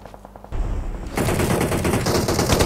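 Gunfire in a battle royale video game: a few distant shots give way to sustained, loud automatic weapon bursts firing in rapid, dense succession, rising in intensity without any voices.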